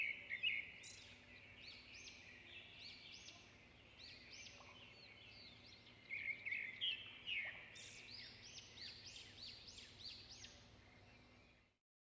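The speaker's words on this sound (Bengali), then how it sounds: "চারিদিকে পাখির কিচির মিচির শব্দ, শান্ত পরিবেশ ও সুন্দর ঠান্ডা বাতাস।" Birds chirp and twitter around a quiet village in a cartoon scene, a steady run of faint, thin calls repeating close together, with a slightly busier burst midway.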